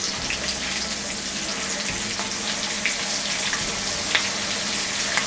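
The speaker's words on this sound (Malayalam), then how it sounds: "നമുക്കതിനെ ഇനി ഫ്രൈ ചെയ്തെടുക്കാം" Kerala chicken fry pieces sizzle in hot oil in a pan, a steady, close crackling hiss with occasional sharper pops, heard alone without talk.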